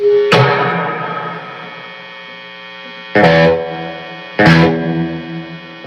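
Three strummed electric guitar chords ring out through a Marshall Origin 20H tube amp with a little reverb, each decaying slowly with a reverb tail, under a faint steady hum.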